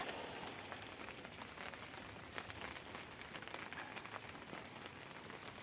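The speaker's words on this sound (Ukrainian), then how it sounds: "У нас знову дощі, знову все мокре." Steady rain falls continuously, a dense hiss of drops pattering on surfaces with faint crackles, no voices.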